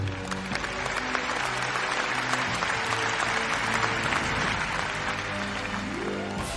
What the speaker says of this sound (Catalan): l'animava des dels balcons amb un sonor aplaudiment